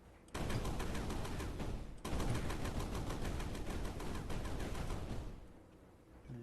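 Rapid triple-shot gunfire from a weapon in the sandbox game Sandustry, a dense, continuous rattle of fast shots that runs loud for several seconds, with a brief break, before tapering off.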